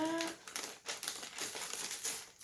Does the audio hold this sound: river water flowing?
no